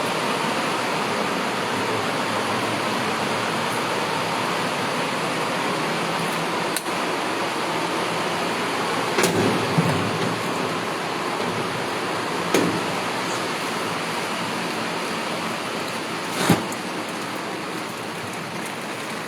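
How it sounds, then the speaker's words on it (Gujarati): Heavy rain pours steadily over a farm with flooded fields and a waterlogged rooftop, a dense continuous hiss broken by a few sharp drip or splash hits, with no voices. "આ વરસાદ જો કેટલો વરસાદ છે જો બહુ એટલે બહુ જ વરસાદ છે"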